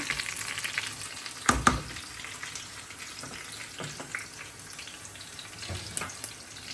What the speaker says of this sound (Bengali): পেঁয়াজ রসুন ভেজে নিচ্ছি